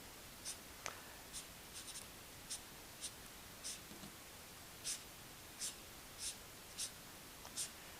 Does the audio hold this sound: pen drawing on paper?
yes